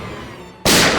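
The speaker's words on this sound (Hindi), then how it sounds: "गोली चली अंदर।" A single sharp gunshot cracks indoors, sudden and loud after a quiet tense moment, followed by a lingering ringing wash.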